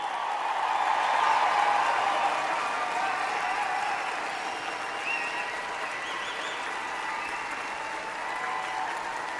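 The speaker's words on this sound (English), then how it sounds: "I ask your friends, family, and all those here to join me in applauding the amazing graduating class of June" A large convocation audience applauds the graduating class, dense sustained clapping swelling early and holding steady across the hall with no talk over it.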